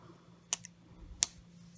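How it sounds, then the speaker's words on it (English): Scissors snip through a sublimation transfer sheet, two short crisp cuts about a second apart, close and fairly quiet against a faint background hum. "I just cut it up the middle with some scissors"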